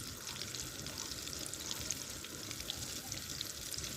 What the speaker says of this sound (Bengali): এবার ওই পিস করে রাখা মাংসটা আমি ডিবেতে এক এক করে ডুবিয়ে নেব, নিয়ে কুরকুরেতে মিশিয়ে হালকা তেলে ছেড়ে দেব।